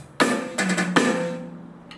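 Bar 18's fill from a rock piece gives three loud drum and cymbal hits with a bright sustained wash, the last crash decaying slowly, with no voice over it.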